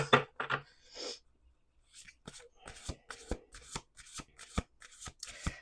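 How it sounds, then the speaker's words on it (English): Tarot cards are shuffled close up: a few riffling bursts, a pause, then a rapid series of crisp snapping and flicking sounds. "Let's do 2 more shuffles."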